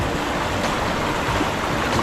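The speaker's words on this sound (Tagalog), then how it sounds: "Nag-aalboruto na yung ano, ilog. Nag-aalboruto na yung dam." Rushing river water churns and roars over an old dam swollen by rain, a dense, steady wash of noise with no pauses and no voices, close and loud throughout.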